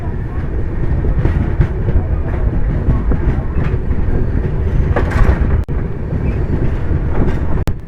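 The Kerala Sampark Kranti Express runs through Haryana with a loud, continuous rumble and rhythmic clickety-clack of wheels on rail joints, recorded from inside a carriage, with two sharp clicks near the end.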